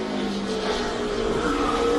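A NASCAR NEXTEL Cup race car on a 2007 qualifying lap, its engine a steady, loud drone that holds for the whole stretch and rises slightly in pitch toward the end.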